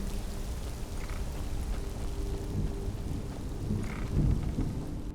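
A thunderstorm in the Skyrim video game, with steady rain and low rumbles of thunder that swell near the end, heard alone with no talk.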